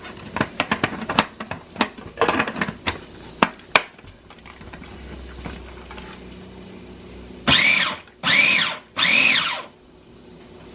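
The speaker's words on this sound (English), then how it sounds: "little pink food processor that I have. Finally get to use this cutie." Small pink food processor mincing onion: a run of quick clicks and taps, then three loud whirring pulses near the end, each lasting under a second with short pauses between.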